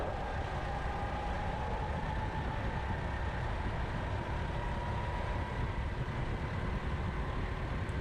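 A racing kart engine held at high revs on a track during a league race final, a steady continuous drone with a sustained tone, fairly distant and even in level throughout, with no talking.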